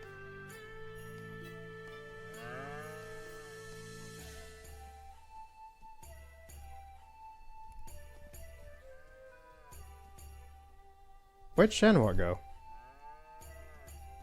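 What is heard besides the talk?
cows mooing in video game Shenmue 3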